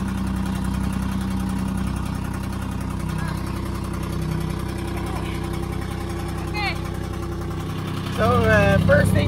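A logging skidder's engine idles with a steady, moderately loud hum. Brief voices and a louder surge come near the end.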